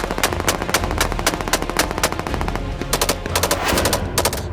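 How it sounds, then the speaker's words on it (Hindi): Indiscriminate gunfire in Taliban-held Afghanistan sounds as rapid bursts of automatic shots, with many closely spaced sharp cracks repeating in clusters throughout, loud and dense, with no voices. "अंधाधुंध फायरिंग, चारों दिशाओं से बुलेट की बौछार"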